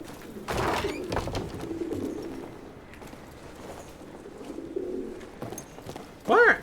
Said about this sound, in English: Well, I found a pigeon.